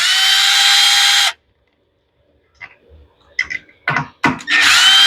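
A power driver spins screws out of a lawn mower that has sat unused all winter, in one long loud whir that stops abruptly, followed by short taps, rattles and brief bursts before the tool runs again.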